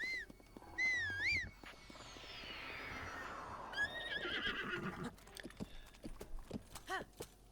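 A horse summoned in Breath of the Wild whinnies loudly a couple of times, then hooves clip-clop closer in a rapid, uneven rhythm, with a sweeping whoosh between and no voices.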